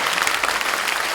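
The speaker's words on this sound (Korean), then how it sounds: "비밀을 폭로해 주셔서 큰 박수로 다시 한번." An audience at a political talk concert in Daegu breaks into applause: a short, loud, continuous wash of many hands clapping together, with nothing else heard over it.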